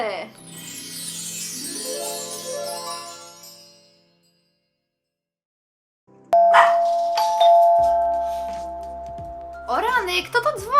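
A doorbell in a home gives a single clear, ringing chime after a short pause, with music fading out beforehand and voices starting a few seconds later.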